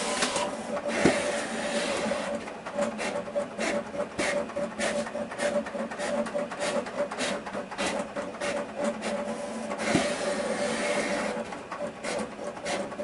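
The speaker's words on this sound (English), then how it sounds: "Now it's going to basically suck it back in and do the contour cut and the perf cut." A Roland VersaCamm printer-cutter whirs and rasps steadily as it pulls decal vinyl back in and runs contour and perforation cuts, with a carriage sweep near the start and another toward the end, loud and close without talk.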